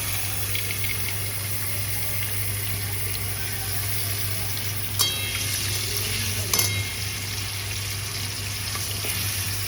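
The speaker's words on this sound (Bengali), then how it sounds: "তেল দিয়ে দিয়েছি। আমি প্রথমেই এখানে আমি আদা কুচি দেবো।" Chopped ginger frying in oil in a wok, a steady hissing sizzle beneath a low constant hum, broken by two brief sharp clatters, with no speech.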